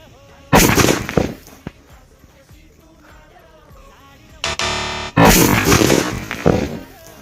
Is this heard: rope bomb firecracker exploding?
yes